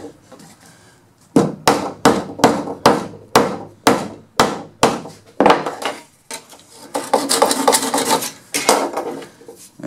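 Oak dowel pins are hammered into the breadboard ends of a Mission-style secretary, about a dozen sharp, loud, evenly spaced strikes, followed by rougher scraping and knocking.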